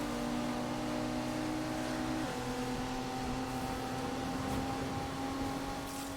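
A Nissan Z engine in Need for Speed Unbound holds a steady, loud drone with sustained tonal harmonics, shifting pitch once midway as it revs or changes gear, continuous throughout.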